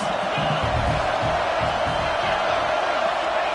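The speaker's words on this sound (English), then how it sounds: "This crowd trying to make life miserable for this offense." Stadium crowd in College Football 26 during a Penn State game, a steady loud roar that swells and holds without letup for the whole stretch, with no voices standing out from the mass of noise.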